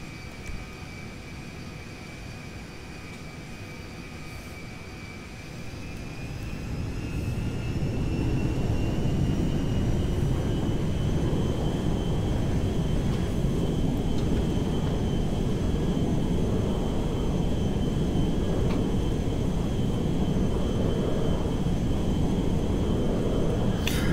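A video game airplane in GTA 5 takes off, its engine droning steadily and then swelling into a louder, sustained roar as it gathers speed, with a thin whine riding on top throughout.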